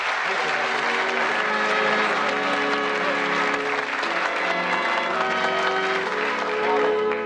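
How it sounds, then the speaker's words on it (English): Television game-show studio audience applauding, a dense, steady ovation of many hands holding at full strength throughout, with music playing underneath the clapping. "Give them a nice round of applause."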